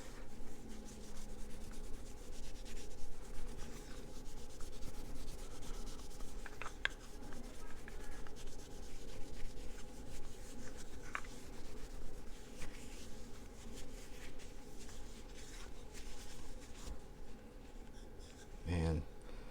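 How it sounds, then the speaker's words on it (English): A clean cloth rubbing wax onto a small wood burl, a continuous faint scratchy swishing of steady strokes, with a person talking over it. "Just come through with a clean cloth, wipe off any excess wax. Just kind of rub it around, give it a good shine."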